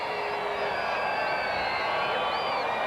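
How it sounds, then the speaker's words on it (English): Crowd noise at a 1994 minor-league baseball game between Norfolk and Richmond, a dense steady roar of many voices with scattered whoops and whistles, heard alone without commentary. "An enthusiastic crowd"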